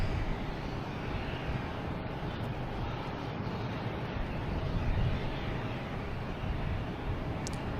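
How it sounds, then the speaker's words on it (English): A Delta Connection airliner arriving from New York on its approach to land at Boston Logan airport, a steady broad engine roar that swells slightly midway, heard from a distance outdoors with some wind. "This was a Delta connection coming in from New York."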